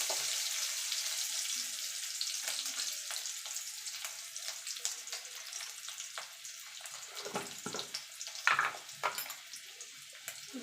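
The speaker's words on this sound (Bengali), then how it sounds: "তেলটা গরম হয়ে গেছে। দিয়ে দেবো কাঁচা লঙ্কা।" Green chillies sizzle steadily in hot oil in a pan, a soft, continuous hiss with faint crackles and occasional stirring scrapes, heard close with no talking.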